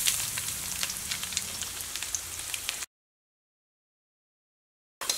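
Ginger and garlic, added after mustard seeds, sizzle in hot oil for a pickle, a close steady crackling hiss with fine pops, broken by a stretch of silence before the frying resumes briefly.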